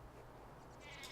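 Sheep bleat faintly in Civilization VI gameplay, a short quiet call rising near the end of the moment over a low, steady game backdrop.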